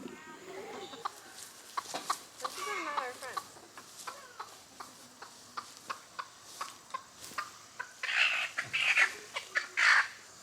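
Broody hens in a coop cluck in repeated short bursts close by, with a few louder squawks near the end.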